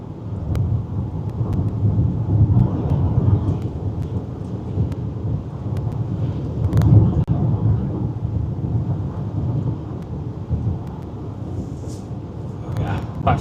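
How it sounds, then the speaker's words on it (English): Thunder from a supercell storm over northeastern New Mexico in June rolls low and continuous, with rain and wind noise buffeting the microphone throughout. "By far and away the strongest storm of the day in New Mexico so far"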